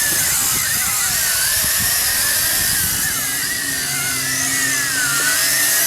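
WLToys Galaxy V353 quadcopter flying outdoors in wind, a loud, continuous high-pitched whine of small electric motors and propellers, wavering in pitch as it maneuvers nearby.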